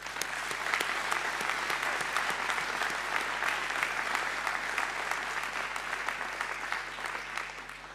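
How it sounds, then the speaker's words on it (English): An audience at a school speech day applauds steadily, a dense patter of many hands clapping that holds evenly for several seconds and tapers slightly at the end. "Big round of applause."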